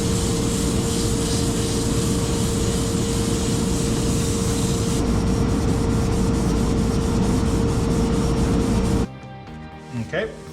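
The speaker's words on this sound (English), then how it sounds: "Just need to give this a sanding." Wooden French rolling pin being sanded, likely spinning on a lathe, producing a loud, steady abrasive whir with a sustained tone that cuts off near the end, followed by a few faint knocks.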